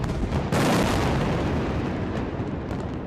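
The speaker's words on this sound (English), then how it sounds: "It was another night of explosions in Gaza City as heavy Israeli airstrikes and Palestinian rocket fire continued." A heavy explosion from nighttime airstrikes and rocket fire in Gaza City bursts in loudly and rolls on as a long, dense rumbling roar.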